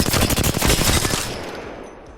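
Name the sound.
gunfire, hip fire from a video game gun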